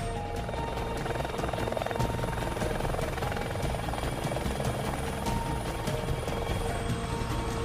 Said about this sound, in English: I didn't know you could fly an helicopter.